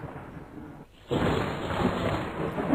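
Thunder rumbles into steady, loud rain, with a brief quieter gap before the downpour surges back in and continues heavily.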